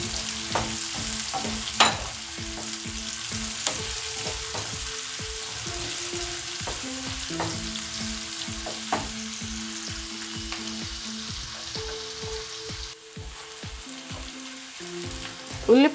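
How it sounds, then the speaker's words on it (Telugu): Chopped onions fry in a pan for a pepper chicken fry, giving a steady close sizzle broken by regular scraping clicks of a stirring spoon, with faint tonal music running underneath throughout. "ఉల్లిపాయ ముక్కలు, ఇవి దోరగా వేగించాలండి."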